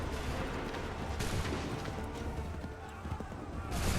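Musket volleys from a battle in Assassin's Creed III Remastered, a dense, continuous crackle of gunfire with booming bursts and shouted commands mixed in, loud throughout with a sharp surge at the end.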